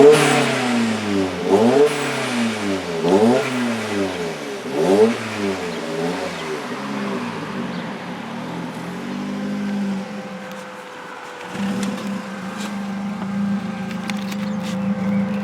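A Ford Focus RS running rich with unburnt fuel revs hard several times in quick succession, each rev rising and falling through the exhaust before settling into a steadier idle drone.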